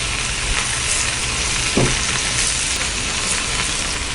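Kara vadai batter frying in hot oil, a loud, dense and continuous close sizzle with one brief soft bump partway through.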